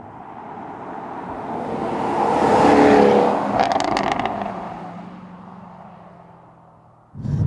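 A Jaguar F-Type R's exhaust swells from a steady rush to a loud peak with a few crackling pops, then fades away before a sudden burst at the end, with no talking.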